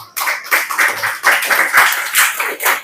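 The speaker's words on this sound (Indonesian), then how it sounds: "Kita beri aplaus untuk kelompok 2." A classroom of students claps steadily in applause for a student group that has just finished presenting, many hands together at close range for nearly three seconds with no talking over it.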